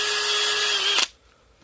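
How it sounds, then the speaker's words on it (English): A power drill whines at steady high speed while boring a bigger hole in a Schumacher battery pack, then stops abruptly after about a second, leaving near silence. "But I need to drill a bigger hole."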